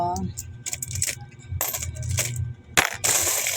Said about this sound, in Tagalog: bibilang tayo ng barya